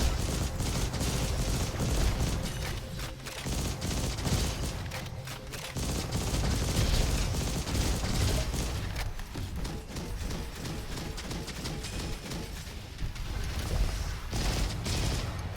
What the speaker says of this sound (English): pop around, pop a couple shots like this